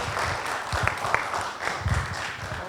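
An indoor audience at a disaster-awareness and behaviour-change training session claps together, a steady wash of applause with a few sharper close claps and faint voices underneath.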